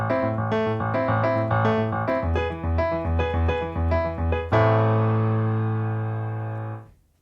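A repeated piano chord pattern plays with a low pulsing beat, then ends on a held chord that rings out and fades to silence.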